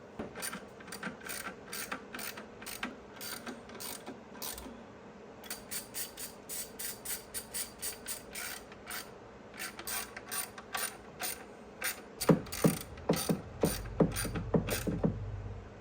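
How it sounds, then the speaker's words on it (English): A ratchet tightening bolts on the engine of a 2007 Ford Edge during a head gasket job, rapid bursts of close, crisp clicking in repeated runs, ending with heavier, louder strokes. "I'm going to tighten them down snug to that point, and then I'm going to torque them down to that point as well"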